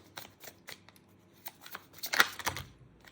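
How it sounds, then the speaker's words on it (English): Quick papery riffling and soft flicks of cards being shuffled, in short bursts with a louder snap near the end, no talking. "So we'll just shuffle again"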